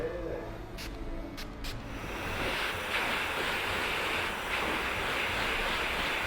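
Beardbrand sea salt spray is misted into a man's hair during a barbershop haircut: a few quick, crisp spritzes at the start, followed by a steady airy hiss that continues to the end.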